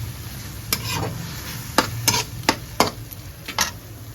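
Grated coconut and ginger-garlic paste fry in a pan over a low, steady sizzle, punctuated by a handful of sharp spoon scrapes and taps as the mixture is stirred.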